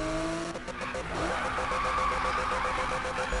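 Tyres squeal and skid under a revving engine as a car drifts in the Need for Speed racing game, a steady loud slide with engine tone and tyre noise blending throughout.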